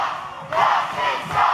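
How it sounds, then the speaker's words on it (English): A wrestling crowd at an OVW event roars and cheers in loud bursts, swelling twice in quick succession with no clear voice standing out. "Listen to the crowd, guys."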